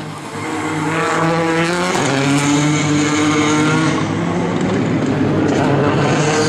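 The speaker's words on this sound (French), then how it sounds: "On vient de voir passer, c'était la numéro 4 de David Bonjean" A rally car sliding through a special stage of the Rallye de Wallonie, its engine roaring loud and close with climbing gear notes and tyre noise, while a commentator talks over it.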